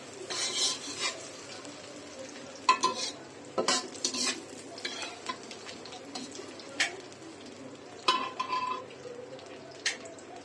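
Onion, ginger and garlic fry in foaming mustard oil for biryani, giving a steady sizzle. Loud bursts of spatula scraping and stirring clatter against the pan at intervals.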